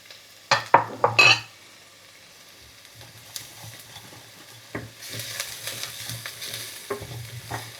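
Spices (garam masala, chili flakes, turmeric, mustard seeds) stirred quickly in a hot frying pan for mango chutney: a few sharp utensil scrapes and clatters up front, then a soft steady sizzle with scattered light scraping, close and alone.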